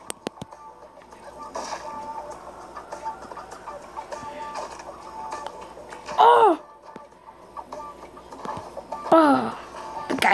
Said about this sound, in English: See, you hear the chicken?